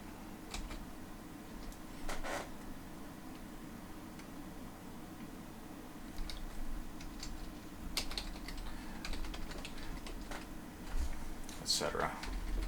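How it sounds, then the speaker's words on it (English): Keys clatter on a computer keyboard in scattered bursts of quick taps, close but quiet over a steady low hum, with short pauses between clusters. "I'm just going to type a few items there."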